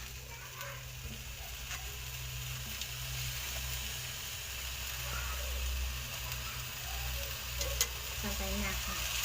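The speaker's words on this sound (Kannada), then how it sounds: "ಫ್ರೈ ಮಾಡ್ಕೊಂಡ್ರೆ ಹಸಿ ವಾಸನೆ ಹೋಗಬೇಕಿದೆ ಮೆಂತ್ಯ ಸೊಪ್ಪೆಲ್ಲ" Fenugreek leaves frying in a little oil, with a steady low sizzle and occasional stirring scrapes under a constant background hum, moderately loud throughout.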